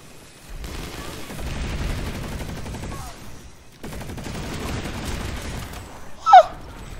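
Automatic weapons fire in a PlanetSide 2 match comes as rattling bursts in two long runs split by a short gap, ending with a sharp, bright electronic chirp.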